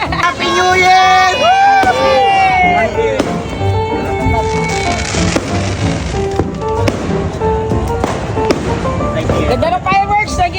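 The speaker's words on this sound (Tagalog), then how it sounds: "Ganda ng fireworks! Nakikita mo yung fireworks?" New Year fireworks burst repeatedly in sharp, loud cracks and whistling rockets, some close and some farther off, while a crowd shouts and chatters throughout.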